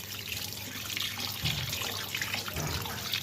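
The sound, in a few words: washing raw fish under running tap water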